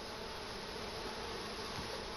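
Honeybees at an open beehive buzz in a dense, continuous drone, close and steady throughout with no voices.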